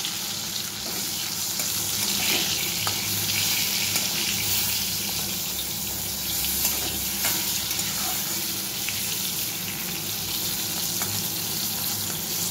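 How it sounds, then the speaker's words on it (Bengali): Food fries in a pan with a pinch of salt, giving a constant, close, fairly loud sizzle. Occasional stirring scrapes run underneath it for the whole stretch, and no one talks. "নুন দিয়ে একটু ভেজে নিচ্ছি"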